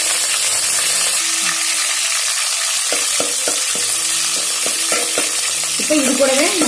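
Curry leaves, sliced shallots and garlic sizzle in hot oil, a constant crackling hiss with a run of sharp spoon-on-pan clicks and scrapes from stirring in the second half.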